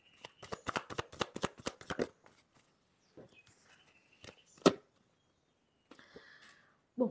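Tarot cards are shuffled close up in a quiet room: a rapid burst of crisp riffling flicks, then sparse soft card slaps and taps separated by silence.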